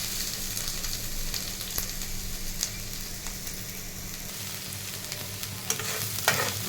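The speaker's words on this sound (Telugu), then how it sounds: "పచ్చిమిర్చి, ఆనియన్స్, బాగా ఫ్రై చేయాలి." Green chillies and onions fry in hot oil in a pan for a ragi vegetable soup, giving a steady close sizzle with occasional stirring scrapes and pops.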